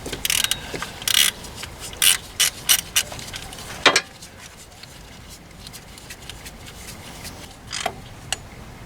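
Ratchet wrench clicking in short bursts while tightening a bolt during a timing belt and water pump job on a Ford S-Max 1.8 TDCi, close and fairly loud, with quieter pauses between strokes.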